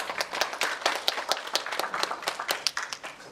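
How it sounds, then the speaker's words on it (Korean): An audience at a tenth-anniversary forum for an eco-culture village project claps briefly, producing a quick, fairly close patter of hand claps that tapers off after a few seconds. "다시 한번 큰 박수 부탁드리겠습니다."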